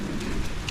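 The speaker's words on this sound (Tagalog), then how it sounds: "Oy, lumalakas pa yung ulan" Heavy rain pours down in a steady, close wash of noise across the brief moment, with faint sharper patters of drops and no voices.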